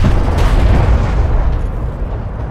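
A strike craft blows up in the sci-fi strategy game Homeworld: Deserts of Kharak, a loud, close, rumbling blast that swells at once and slowly fades over a couple of seconds.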